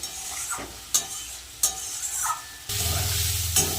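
Spices being stirred and sautéed in a pan for a fish curry, with a scraping stir and soft sizzle, sharp spoon strikes against the pan, then a louder, steady frying hiss toward the end; no talking.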